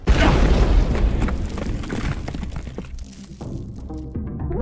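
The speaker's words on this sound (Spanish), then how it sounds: "Una explosión." A heavy explosion goes off in the stealth action game Unmetal. A loud, booming blast at the start rolls off into a fading rumble and debris over several seconds.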